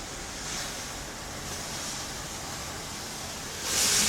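A Conair Extreme Steam handheld garment steamer on a low heat setting is dragged down a shirt, giving a steady, fairly loud airy hiss of steam that swells near the end, with no talking.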